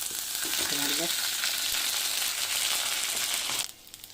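Thavala adai frying in oil in a pan, giving a steady, loud, close sizzle that drops off sharply in the last half second.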